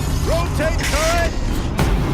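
Turret rotating in Horizon Zero Dawn, a short mechanical whirring with rising and falling servo-like tones, a couple of creaking sweeps over steady background game noise, ending in a sharp clank.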